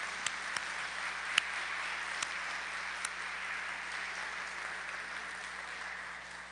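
A congregation at a children's Mass in church applauds the catechists, soft, distant-sounding clapping spread across a roomy space with a few sharper claps standing out over a steady hum.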